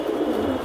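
A pair of red pigeons coo, a soft low throaty call, close and clear, with no voices over it.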